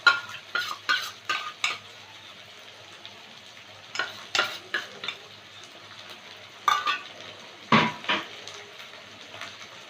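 Chopped tomatoes and ginger paste fry in a pan as a spoon stirs them, giving repeated sharp scraping clinks in bursts over a soft steady sizzle, close by, with no talk.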